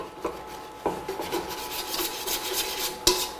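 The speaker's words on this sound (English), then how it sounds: "I'll stir that. I use a little plastic spoon thing." A small plastic spoon scrapes and rubs around the inside of a copper pot while crab and dumplings are stirred, giving close, uneven rasping strokes with a few sharper knocks.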